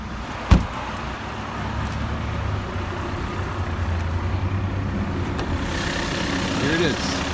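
A 2015 Volkswagen Passat 2.0L TDI diesel idling after a push-button start, with a sharp click at the start and then a steady low rumble that runs throughout.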